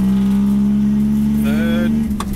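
A modified car accelerates on a track, its engine droning steadily loud and near while shifting from first into second gear, with someone talking over the engine noise.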